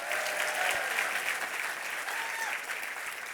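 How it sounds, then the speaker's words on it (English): Crowd applause at a light rail station opening: sustained, dense clapping from a sizable audience fills the whole stretch, steady and fairly close, gradually easing toward the end. "Give them a round of applause for this day."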